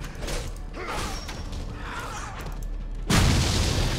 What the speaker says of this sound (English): Trap has been sprung.